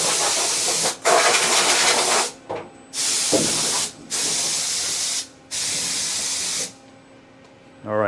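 Compressed air blasts out metal chips from inside a machine vise cavity: four long, loud hissing bursts separated by short pauses, with a steady machine hum beneath and no talking.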